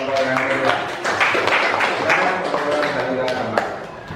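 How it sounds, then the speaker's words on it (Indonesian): Students clap for the second presenting group in an Indonesian classroom, a steady scattered applause of many hands lasting several seconds with voices mixed in. "Kita berikan tepuk tangan untuk kelompok yang kedua."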